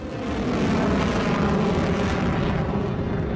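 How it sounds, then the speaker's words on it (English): A North Korean Hwasong-11 solid-fuel ballistic missile launches from a 10-wheeled transporter erector launcher, its booster giving a dense, loud, sustained roar that holds steady throughout. "The Hwasong-11 is launched from a 10-wheeled transporter erector launcher and powered by a solid-fuel rocket booster."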